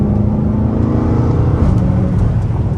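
A Dodge Hellcat Redeye accelerates hard on a street, its engine a loud, deep, steady roar heard from inside the car.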